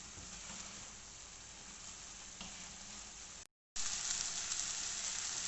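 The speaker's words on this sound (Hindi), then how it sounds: "इन सब चीज़ों को मिक्स करेंगे और इनकी तकरीबन 3 से 4 मिनट हम भुनाई करेंगे" Okra and minced keema with spices fry in a pan over a medium flame, giving a steady, dense sizzle that runs on without pause, broken only by a brief cut before it resumes louder, with no talking.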